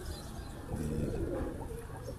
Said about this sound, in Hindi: ये हरून साहब का कबूतर है